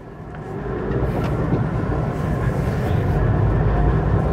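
The 1.2-litre K-series four-cylinder engine of a Maruti Suzuki seven-seater car revs up. It makes a loud, rough rumble that builds steadily over a few seconds, with no speech.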